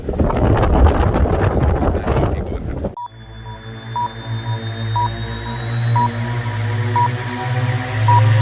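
Strong winter-storm wind in Burlington, Canada roars and buffets the microphone for about three seconds, then drops to a quieter rushing hum with a faint steady tone and regular beeps.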